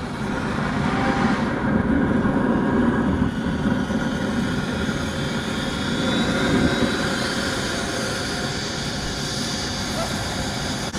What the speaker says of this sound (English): Got the little blinky blinky light going for the turbine, says it's still spooling up